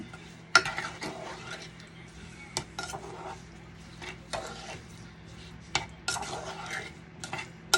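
A spoon stirring strawberry sauce for cheesecake in a pan, giving scattered sharp clinks and scrapes against metal at an irregular rhythm, close and fairly quiet, with faint background hum.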